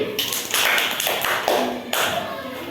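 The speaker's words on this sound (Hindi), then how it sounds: "बहुत अच्छा, ताली बजाइए" Children in a Hindi-medium classroom clap together after a storytelling question, a fairly close, steady burst of hand claps lasting a few seconds with a brief pause and a renewed round near the end.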